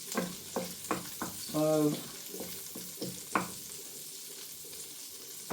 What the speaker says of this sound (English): Get my wooden spoon there and give it a wee stir. We don't want the garlic to burn